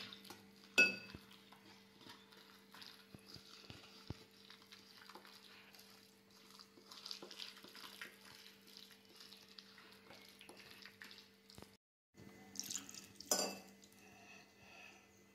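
Tomato omelette batter thinned with water gets mixed in a bowl: scattered clinks and scrapes of a spoon against the dish, faint and intermittent, with a steady low hum underneath.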